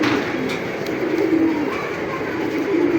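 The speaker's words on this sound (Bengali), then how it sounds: "কবুতর ভালো।" Racing pigeons in a loft coo steadily in low, murmuring tones, a continuous close flock sound with little else over it.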